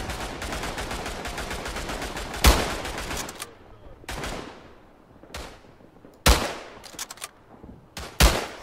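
Gunfire in the World War I shooter Tannenberg: a rapid string of shots for about three seconds, then several single heavy rifle cracks with long echoing tails, loud and close, with no talking.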